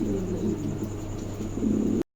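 An adult male king pigeon cooing close by in low, throaty, repeated rolls, with light background noise until the sound cuts off abruptly.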